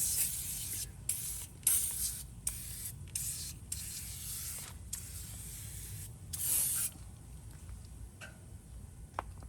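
Rapid bursts of spray hiss in quick succession, a dozen or so short pumps from a trigger bottle of cleaner onto car exhaust tips, soft and close with faint clicks.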